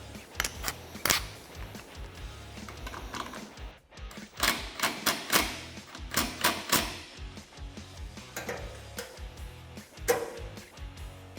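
Aluminum doors on a Can-Am Defender UTV swinging and latching against a newly set striker, heard as a run of sharp metallic clacks and knocks of varying strength, close by, with no talking.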